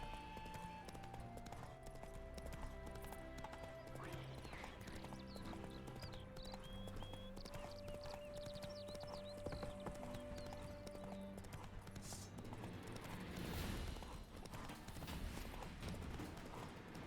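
Horse hooves clop steadily and close in The Witcher 3, a continuous galloping rhythm under droning game music, with a whinny breaking through near the end.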